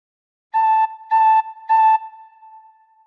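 Three steady tin whistle notes, blown gently with the first hole covered, evenly spaced and held about a third of a second each, clear and close with a soft ring after.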